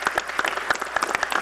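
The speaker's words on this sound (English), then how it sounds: "So, one last applause for our students." A short burst of applause for students at a town council meeting, clapping from a small audience, brief and moderately loud.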